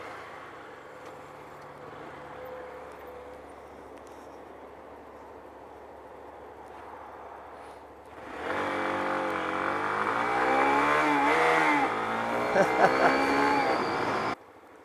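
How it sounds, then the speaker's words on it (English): A Ferrari sports car passes close by, its engine noise swelling suddenly from a quiet street into a loud, rising revving roar that holds for several seconds, then cuts off. "Oh my god, that's a Ferrari."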